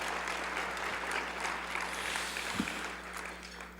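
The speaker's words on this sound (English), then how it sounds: "can we have a round of applause for those individuals who are here with us and present" Steady applause from a seated audience at an arts awards ceremony luncheon, a soft continuous wash of many hands clapping at a distance, fairly quiet and even throughout.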